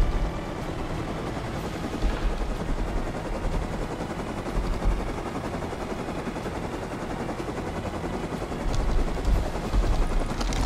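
Helicopter in the Rust survival game, a dense continuous rotor and engine roar running steadily throughout, with bursts of gunfire mixed in and no talking.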